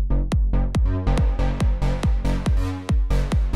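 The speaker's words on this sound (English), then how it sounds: "a short, sharp reverb. So if we turn that on, it sounds like this." A synth bass in Ableton plays a quick run of punchy, evenly spaced plucked notes, each one closing in a short, sharp reverb tail that adds space.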